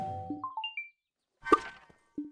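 A short bright electronic chime in the game The Walking Trade as an item sells, a quick ascending jingle of pinging tones, followed by a sparkly ding and a soft blip.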